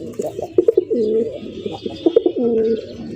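A fancy racer pigeon on a pigeon farm coos close up in two repeated rhythmic bursts of throaty, bubbling notes with short clicks between, loud and alone.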